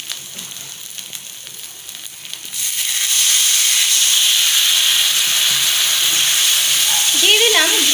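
Spices with whole bay leaf and dried chilli paste hitting hot oil for a raw banana kofta curry, a quiet start then a loud, sustained close sizzle and hiss, with a brief voice near the end.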